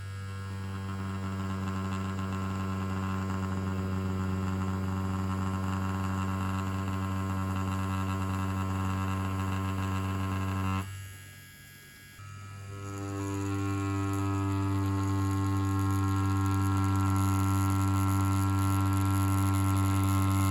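An OG Produce Fury 2 tattoo machine lining at 6.5 volts gives a steady loud electric buzz with a strong hum, briefly dropping out near the middle before resuming, close up and without speech.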